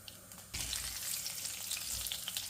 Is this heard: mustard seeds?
yes